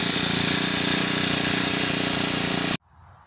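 A small garden engine with aspiration problems, spitting oil and clogging its sponge air filter, idles roughly on its own in a loud, steady close-up drone before cutting off abruptly near the end.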